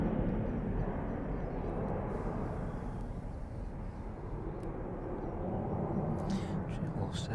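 Jet airliner departing East Midlands Airport in the evening, a steady, loud broadband engine roar with deep low rumble filling the whole stretch, holding fairly constant as the aircraft climbs away.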